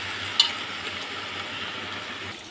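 Leafy greens frying and being stirred in a pan, a steady soft sizzle with the scrape of a utensil, one sharp clink near the start and no voices.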